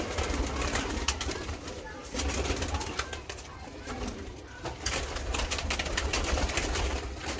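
Pigeons coo repeatedly nearby in low, soft, rolling calls over a constant broad background hiss, with occasional voices.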